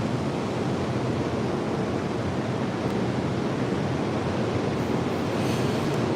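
Ocean surf rolls in as a steady, broad hiss and wash, fairly faint and unbroken, with a light roughness like wind on the microphone and no voices.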